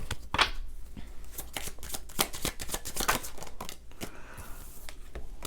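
A tarot deck is shuffled and cards drawn, a close, busy stream of crisp riffles and snapping flicks without speech.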